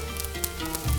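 Kebab pieces sizzle in a hot pan with red pepper, a close, steady crackling hiss with sharp pops throughout and a low rumble near the end.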